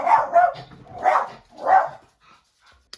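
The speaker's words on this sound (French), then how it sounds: "j'ai dû faire une pause parce que le chien aboyait" A dog barks indoors in four close, loud woofs over about two seconds, then falls quiet.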